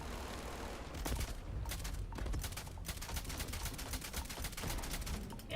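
Rapid bursts of gunfire from a weapon in the space game Starfield, a dense rattling volley of shots repeating over several seconds.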